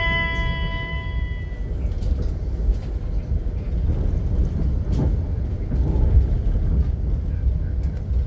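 Argo Merbabu train rolling into Gambir station, a low steady rumble of wheels and carriage noise from inside the train, with a brief chime at the start and faint talk in the background.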